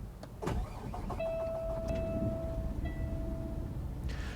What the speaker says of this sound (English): The truck does have some custom dinging sounds that occurs when you fire it up